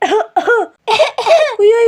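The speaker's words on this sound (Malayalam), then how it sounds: "ഒന്നുകൂടെ ചുമച്ചേക്കാം" Five harsh coughs close to the microphone, two, then two more, then a final drawn-out one, each followed by a brief pause.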